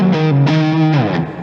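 Electric guitar through a Black Star distortion pedal set as a solo boost, playing a short run of sustained, heavily saturated notes with rich harmonics, loud and up close with no voices.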